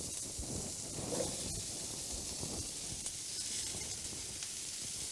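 Squash sizzling as it goes into a hot pan, a steady broadband hiss and crackle holding at an even level throughout, with no talk over it.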